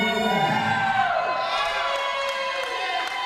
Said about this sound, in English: there you see the response from the crowd